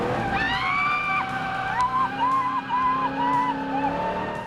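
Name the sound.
V8 race car driving with tire squeal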